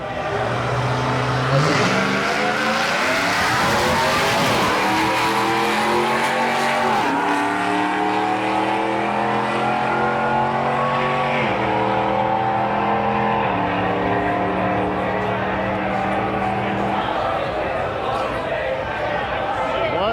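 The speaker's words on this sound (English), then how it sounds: "you can come do a little drag racing" Drag-racing cars at Beech Bend Raceway roar loudly and continuously, engines climbing through repeated gear changes with rising and dropping pitch, with talk mixed into the din.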